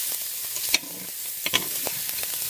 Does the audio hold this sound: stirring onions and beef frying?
yes